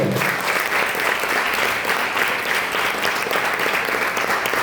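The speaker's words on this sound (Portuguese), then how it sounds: "Você pode aplaudir ao Senhor?" A church congregation applauding during a worship service, sustained and even clapping from many people filling the room, loud and continuous with no talk over it.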